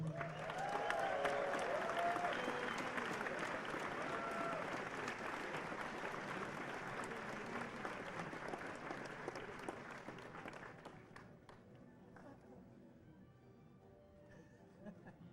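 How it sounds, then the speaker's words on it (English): Audience applause fills a large hall at a Super Smash Bros. Melee finals event, a dense steady wash of clapping that eases off toward the end, with voices mixed into the crowd noise. "so give yourselves a round of applause"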